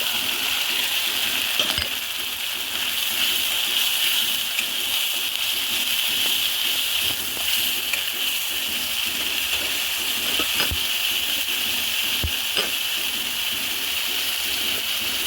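Tomato paste goes into a hot frying pan for a spicy rupchanda fish curry. A loud, steady sizzling hiss runs throughout, close to the listener, with a few sharp clicks over it.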